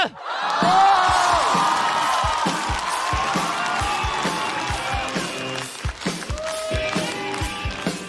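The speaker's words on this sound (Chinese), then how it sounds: "掌声有请史岩" Loud theatre audience applause and cheering greet a stand-up comedian walking on stage at a Chinese comedy show, steady dense clapping throughout with a few whoops.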